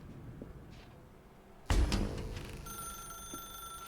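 Telephone ringing in the video game The Stanley Parable, a sudden loud bright ring bursting in after quiet room tone, followed by sustained ringing tones that linger steadily, with no talk.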